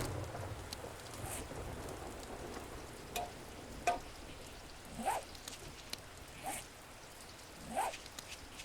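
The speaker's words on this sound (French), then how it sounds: "Alors comme vous voyez, il pleut." Steady rain hissing in the survival video game 7 Days to Die, a dense faint patter with occasional soft thumps and drops, no voices.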